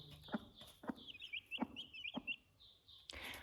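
Hen clucking in a chicken coop where she broods and raises her chicks, with short repeated clucks at a steady pace and higher chick peeps chirping in between, fairly close and with no talking.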